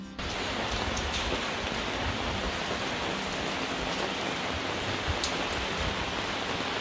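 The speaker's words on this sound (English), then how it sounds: "it is raining" Steady rain falls without pause in Sarria, Spain, a dense, even hiss of drops on surfaces, with occasional louder drips nearby.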